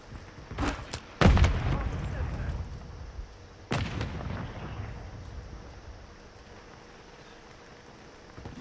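Gunfire and explosions in a military shooter game, a few sharp bangs and a heavy blast early on, then another loud shot, with rumbling decay and wind-like noise trailing off.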